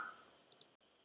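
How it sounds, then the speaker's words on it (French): Two quick, faint computer mouse clicks tap in close succession while operating video call software, set against a quiet background. "si je clique ici"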